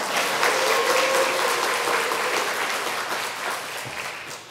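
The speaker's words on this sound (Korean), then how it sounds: "그리고 함성과 박수 시작." A church congregation bursts into sustained applause and cheering, a dense clatter of many hands that holds steady and slowly tapers off near the end.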